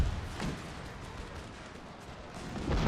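Musket volley fire in Empire: Total War, a rolling, noisy battlefield crackle of massed shots that swells toward the end, steady and loud with no clear single report standing out.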